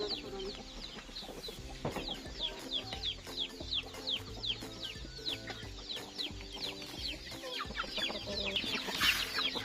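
Farm chickens cluck and chatter at feeding time, a dense run of repeated clucks from several birds nearby, moderately loud, with mechanical background noise and no talk.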